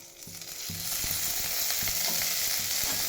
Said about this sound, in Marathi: तेल टाकून भाजून घेऊ.